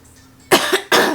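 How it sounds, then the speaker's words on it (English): A person clears their throat up close with a short, rough, two-part rasp followed by a second harsh burst, loud and alone. "Sorry, clear my throat."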